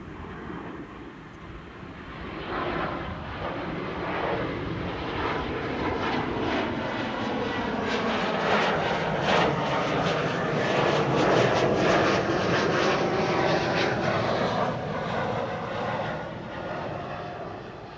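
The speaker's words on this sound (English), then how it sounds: "this is an E2 Embraer 195 to Venice" An Embraer E195-E2 jet at Amsterdam Schiphol gives off a broad, steady engine roar that swells gradually louder and then eases slightly, heard from a moderate distance without voices.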